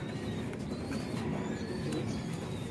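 Pigeons kept by a Filipino fancier coo and murmur steadily throughout, a continuous low cooing layer with faint higher chirps mixed in, moderately near.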